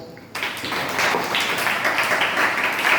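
An audience applauding, dense clapping that swells in after a brief quiet start and holds steady and fairly loud to the end.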